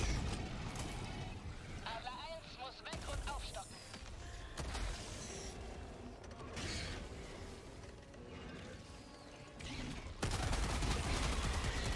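A Breaker shotgun fires repeatedly in Helldivers 2, sharp blasts mixed with mechanical clacks, reload ratchets and dense game battle noise, played fairly quietly throughout.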